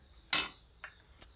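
A spoon stirs salt into matka paneer in a pot, giving one bright clink followed by two softer taps, quiet and close.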